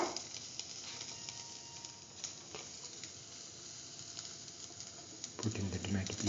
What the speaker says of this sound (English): Saute mix thoroughly.